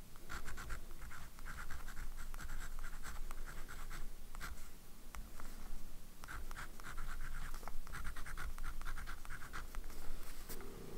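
A fountain pen nib writes on paper, giving a faint, close, continuous scratching with short stroke-by-stroke pulses and no voices.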